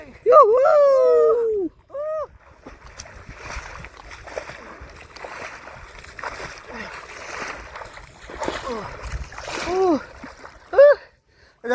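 Water splashes and sloshes at a rocky village swimming spot as people swim, a moderate, uneven churning in the middle distance with voices speaking and calling out at the start and end.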